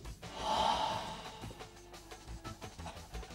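A single breathy exhale through the mouth, soft and close, followed by quiet rustles and faint thumps.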